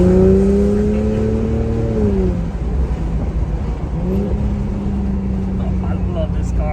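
A Porsche 911 engine revs nearby, its pitch climbing and then dropping before rising again. A loud, steady mechanical drone lies underneath, and a voice may be talking faintly under the engine.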